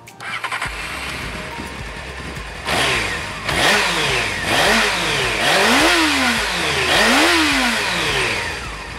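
A Honda CBF 600 S motorcycle engine starts up and idles, then is revved in repeated rising-and-falling sweeps, each blip climbing in pitch and dropping back, steady and close with a muted exhaust tone.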